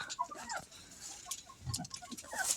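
Chickens cluck softly in a coop at night, scattered close murmurs and short calls overlapping one another at a modest level.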